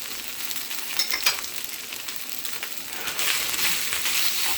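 Shrimp fried rice sizzles steadily in hot oil in a pan, a dense crackling hiss with occasional stirring scrapes, swelling slightly louder toward the end with no voices.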